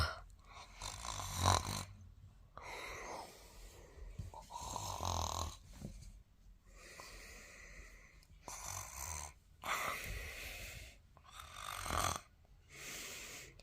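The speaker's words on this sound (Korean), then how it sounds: "아니 왜 이렇게 코골이가 너무 심한 거 아니냐" Loud, rasping snores repeat in an uneven rhythm, each long drawn breath rattling close by with short quiet gaps between.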